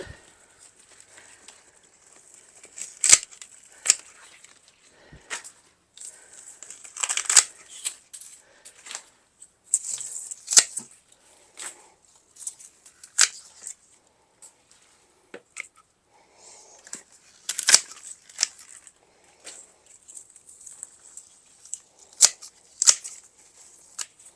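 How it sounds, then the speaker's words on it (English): Amaryllis foliage is trimmed outdoors on a porch with scissors or shears, giving scattered crisp snips and rustling leaves. The cuts come in irregular bursts with quiet gaps between them and no talk. "I'm already going to cut all this stuff off"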